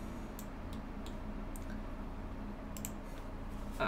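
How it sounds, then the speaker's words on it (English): Faint, sparse mouse clicks at a computer during a game-development session: a handful of sharp, isolated ticks spaced irregularly over a low steady background hum, with no talk. "I keep clicking the wrong thing, sorry about that."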